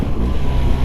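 A BMW R1300 RT boxer engine gives a quick throttle blip, a loud low-pitched burst of rumble with rough pulsing and wind buffeting over it, close to the microphone.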